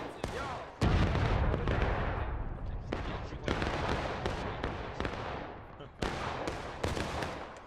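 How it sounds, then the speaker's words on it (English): Cannon artillery fire in the Civil War game War of Rights, with loud booming blasts at irregular intervals, each trailing into a rumbling decay, while players shout over the barrage. "We're firing! Clear the cannons!"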